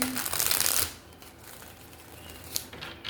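Tarot cards are shuffled close up: a loud riffling burst for just under a second, then quieter handling and a couple of soft taps, with no talk.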